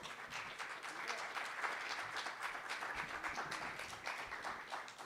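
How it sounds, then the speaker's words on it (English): An audience at a magic show claps as a volunteer comes up on stage, a full steady round of applause heard from a distance throughout. "Give her a round of applause."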